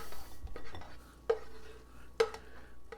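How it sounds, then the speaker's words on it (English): Cooked ground beef scooped from a pan into a strainer: a utensil scrapes and clinks against the pan, with two sharper metallic knocks standing out over quiet kitchen background. "what I'm trying to do is scoop it into a strainer and then I'll wipe the pan clean"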